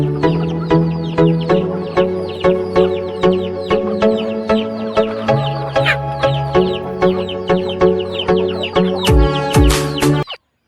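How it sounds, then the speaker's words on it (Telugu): Country chickens on a small native-breed farm cluck continuously in overlapping rhythmic bursts, close and loud, with a few sharper calls near the end and no talk. "మన ఫామ్ అండ్ అందులో కోళ్ళు చూద్దాం రండి"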